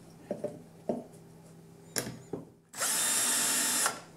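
A power drill fitted with a centering bit drills a hole for a hinge screw. A few knocks and handling sounds come first, then a loud, steady whir of the drill runs for about a second.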